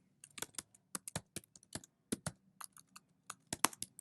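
Fingers type on a computer keyboard in a quiet room, producing an irregular run of crisp, close key clicks with short pauses between bursts and no voices.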